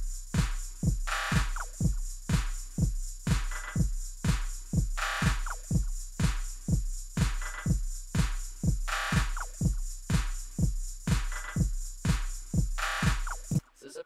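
Full drum group from a house techno remix, a steady driving four-on-the-floor beat with punchy low kicks on every beat and bright hats and claps layered above, loud and looping without any voices.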